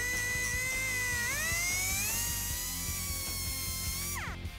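A power tool trims thick built-up fiberglass on a 1971 Plymouth Cuda resto-mod, a loud, close, high whine that rises in pitch partway through, holds steady, then winds down at the end.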